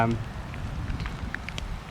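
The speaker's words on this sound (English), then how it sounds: "It's raining pretty good." Steady rain patters down in the woods during a storm, with a low, dense rush, and a few sharper drips and crackles stand out near the end.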